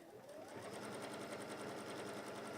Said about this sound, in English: sew all the way around.